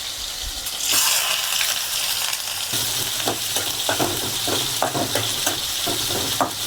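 Fish fries in oil in a kadai, a loud continuous crackling sizzle filling the whole stretch, with occasional sharper pops and spatters and no talking.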